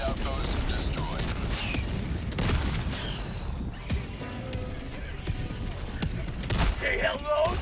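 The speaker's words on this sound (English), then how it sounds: "Orbital barrage." Orbital barrage strike in Helldivers 2: a dense, sustained roll of booming explosions and rapid blasts, loud and continuous, with game voice callouts over the top.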